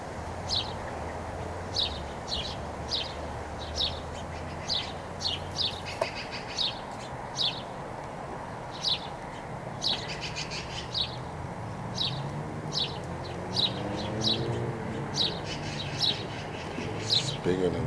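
A crow with missing feathers calls in a repeated series of short sharp caws at a steady rhythm, fairly close, with a low background rumble.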